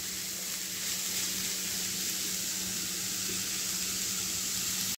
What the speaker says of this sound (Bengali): একদম পেঁপেটাকে আর একটু লাল লাল করে ভেজে নেব আমি